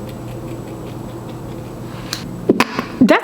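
Sharp scissor snips cutting through a chocolate brown highlighted wig, a few crisp clicks near the end over a steady low room hum.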